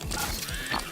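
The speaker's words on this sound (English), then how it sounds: "Weapons jammed." A weapon jams in the video game Watch Dogs: Legion, giving a quick, close burst of ratcheting mechanical clicks, brief and crisp with no voices.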